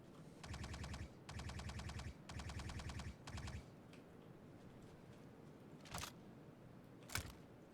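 Rapid automatic gunfire in a space video game, four quick rattling bursts in steady rhythm, followed by quieter gaps and two sharp isolated cracks near the end, all fairly faint.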